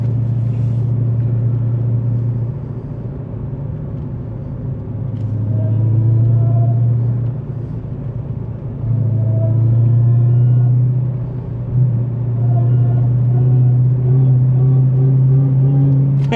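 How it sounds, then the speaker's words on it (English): Supercharged V8 of a 2019 Dodge Challenger Hellcat rumbling loud and close at light throttle, a steady deep drone that swells and eases in several gentle surges with faint supercharger whine above, no talk. "Oh, I love superchargers."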